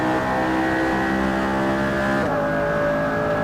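Radical SR3 XXR race car accelerating hard on track, a loud, steady engine howl with rising harmonic tones and a brief gear-change dip partway through, close and continuous with no talk.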